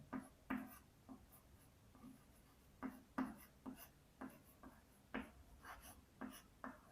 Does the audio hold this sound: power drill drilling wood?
no